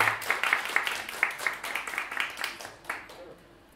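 Audience applause at a harp and jazz concert, a few seconds of fairly close, dense clapping that gradually thins and fades out.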